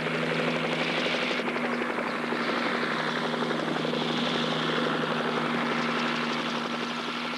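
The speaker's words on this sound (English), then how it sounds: "In the more inaccessible areas, helicopters are used." A helicopter spraying mosquito control agent over inaccessible terrain holds a steady, loud rotor drone with a continuous engine hum. The sound stays constant throughout, with no voices.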